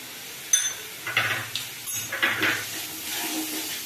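Ground spices fry in a pan for doi katla, a Bengali yogurt fish curry, giving soft sizzling with scattered clinks and scraping of a utensil against the pan, close and fairly quiet, with no talk.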